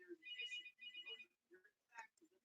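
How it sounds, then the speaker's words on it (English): A phone ringtone chirps in short repeated electronic bursts, faint and somewhat distant, over a quiet background with a sharp bump at the end. "I can't answer that phone because it's kaput."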